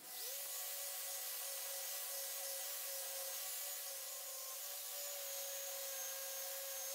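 Coarse 60-grit sandpaper rubs steadily across a hand-carved wooden owl, a continuous close abrasive hiss with a faint tonal whine running underneath.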